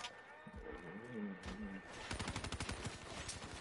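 Rapid automatic gunfire from the Black Ops 3 video game, a quick rattling burst in the second half of the clip, following a voice speaking over quieter game sounds.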